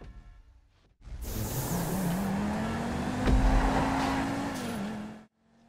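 A race car in a GTA V mountain pass race roars past close by, its engine note rising and holding steady under acceleration before cutting off abruptly, loud and alone.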